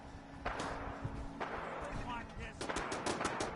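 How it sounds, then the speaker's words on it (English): Fallout 4 gunfight: faint, sharp gunshots crack in scattered single shots and then a quick rapid burst, with a voice talking over them. "I hear a lot of gunshots."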